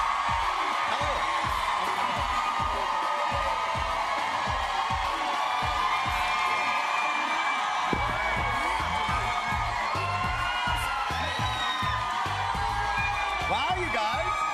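A large outdoor park crowd cheers and whoops for a band, a sustained roar of many voices with speech over it.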